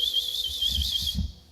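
A voice imitates a traffic policeman's whistle with one shrill, sustained trilling tone that warbles for about a second before cutting off.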